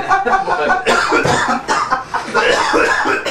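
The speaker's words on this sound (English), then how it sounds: "He gonna die if he keeps coughing like that" A man coughs repeatedly in rough, hacking bursts over a dense, noisy background.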